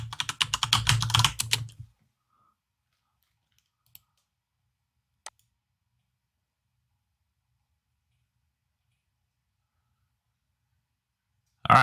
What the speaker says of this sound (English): sign back in. Type your password right, though.